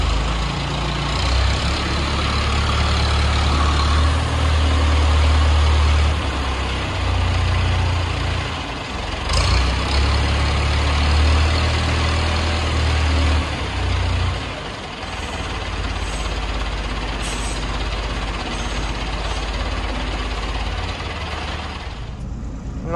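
A truck engine runs steadily at idle, a deep low rumble holding close and loud for the whole stretch with no talk over it.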